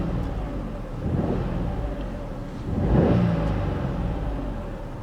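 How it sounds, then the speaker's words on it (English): A 2016 Peugeot 208 engine revved from inside the cabin, two rising swells of mid-pitched engine noise over a steady idle rumble, close and fairly loud. "So if I give the car a little rev,"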